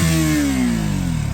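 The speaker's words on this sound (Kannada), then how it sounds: "ಒಳ್ಳೆ ಎಕ್ಸಾಸ್ಟ್ ನೋಟ್ ಒಂದು ಸತಿ ತೋರಿಸು, ಹೆಂಗೈತೆ?" KTM RC 200 motorcycle, a stock 2025 model, revving hard at full throttle with the throttle held open: a loud, close, sustained exhaust roar whose pitch slides slightly downward, with no talking.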